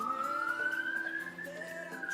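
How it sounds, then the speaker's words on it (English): A police siren wails in the distance, one steady rising tone that carries on faintly, with no voices. "The sirens are happening."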